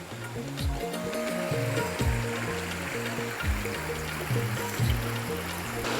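Clear river water flows and trickles steadily over stones at Tiware in Konkan, a bright babbling stream close by, with low gurgling bubbles repeating irregularly.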